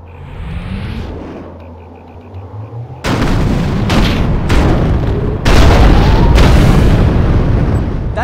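Bombs exploding in The Incredible Hulk (2008) video game: after a quieter stretch with a rising mechanical tone, four heavy, booming blasts strike about a second apart, each loud and close, with rumbling aftermath between them.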